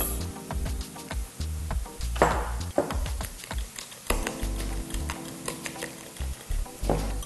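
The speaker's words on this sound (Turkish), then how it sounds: "Yumurtalarımızı çırpıyoruz." Eggs whisked with milk in a bowl for a spinach omelette, a rapid irregular clicking and tapping of the whisk against the bowl, steady and close throughout.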